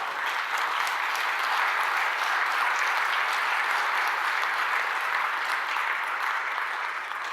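A church congregation bursts into long, even applause at a sermon, many hands clapping in a dense, loud, steady wash that holds for several seconds without voices.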